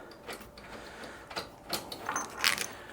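Bolts being removed from the shipping crate of a McIntosh MC462 amplifier: faint, irregular ratcheting clicks and metallic ticks in quick bursts, with no talking.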